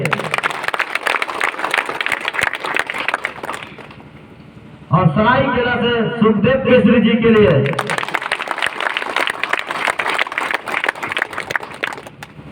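A crowd at a driver union meeting on a school ground in Jharkhand claps steadily in bursts of applause that pause while someone speaks in between, then resume loudly.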